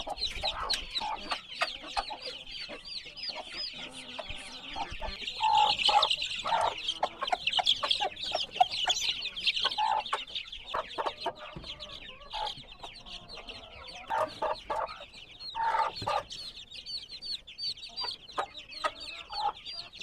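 A blue Jersey Giant chick clucks and chirps continuously up close, with rapid repeated calls and short louder bursts, no talking.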